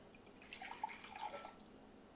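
Water poured for a hydrometer test, a faint, brief trickle with soft dripping, quiet and close, with no voices.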